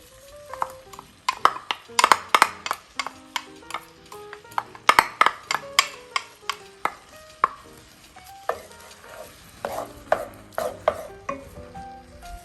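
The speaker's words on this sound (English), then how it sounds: "I'm gonna go ahead and add in my tomato sauce here first" Tomato sauce going into a Cuban oxtail stew in a STAUB Chistera pot over medium-high heat, heard as a long run of close clinks, taps and stirring scrapes in a steady irregular rhythm, with no talking.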